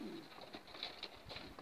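A stray pigeon softly cooing on a rooftop, a brief low throaty coo close by and faint, with no talking.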